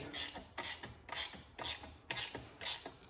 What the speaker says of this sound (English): Now I'm just going to snug all these up a little bit with my gear wrench